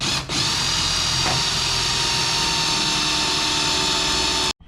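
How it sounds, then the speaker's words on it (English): A power drill bores holes into a 50-year-old project boat, a loud continuous whine that runs steadily after a brief dip at the start and cuts off abruptly near the end. "Now we're gonna go ahead and drill in these other holes we made."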